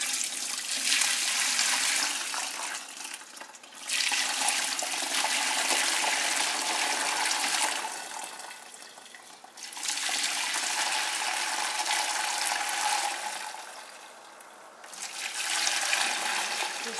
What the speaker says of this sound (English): I'm going to pour it through the strainer into another pot, which is going to catch the bones for us